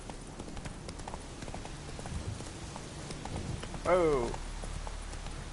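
Roach the horse from The Witcher 3 clip-clops along at a steady gait under low rain-like ambience, with a brief spoken exclamation midway.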